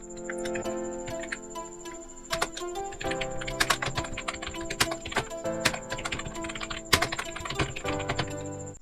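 Fingers type steadily on a computer keyboard close by, producing quick, uneven clicking keystrokes with occasional louder key presses and short pauses.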